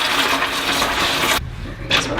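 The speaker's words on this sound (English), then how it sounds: "I'm going to fill this up with a little bit of ice water" Water running from a tap into a bowl for an ice bath, a loud, steady splashing rush that stops abruptly, pauses briefly, then resumes.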